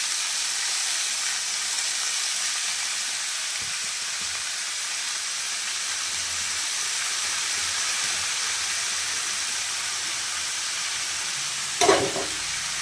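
Garlic, whole mustard seeds, radish and radish greens fry in a pan, a steady loud hiss and sizzle close up, with a brief clatter near the end and no voices.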